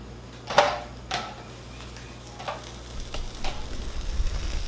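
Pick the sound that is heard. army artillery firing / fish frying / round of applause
fish frying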